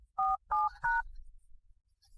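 A telephone number is dialed on a keypad: three distinct electronic tones, each roughly a third of a second, sound clearly in a row, followed by quiet low background hum.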